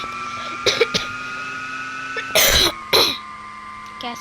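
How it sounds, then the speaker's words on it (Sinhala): A person coughs several times in short bursts, two quick light ones followed by two louder, harsher coughs, close to the microphone over a steady electronic hum from game audio. "කැස්සක් ආවා ගයිස්"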